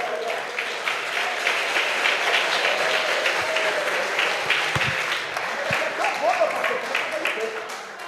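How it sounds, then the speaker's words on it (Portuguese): A church congregation claps vigorously and continuously in a dense, even wash of applause, with a voice speaking over the clapping throughout. "Aplauda o nome de Jesus com vontade"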